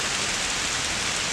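Rain falls steadily at a limestone cave used for climbing, a dense, even hiss of drops that fills the whole moment with no voices.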